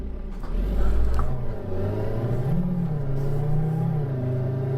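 A Mercedes-AMG G65 engine in a driving video game, played on a Logitech G27 wheel with the car viewed from outside in snowy weather, drones and revs up and down continuously, loud and close, with no talking.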